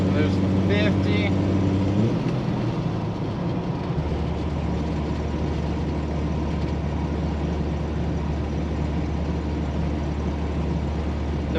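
A propane-powered 1968 Ford Ranchero engine runs at roughly 1600 to 1800 RPM, giving a steady, close, low droning hum that holds evenly for the whole stretch.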